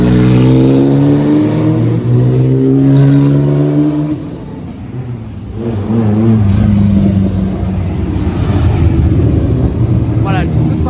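Classic sports cars depart together at the Tour Auto start in Paris, loud engines revving and roaring close by before dropping off and surging again as they pull away, with people talking.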